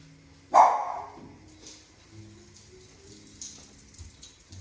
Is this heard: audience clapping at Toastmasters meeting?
no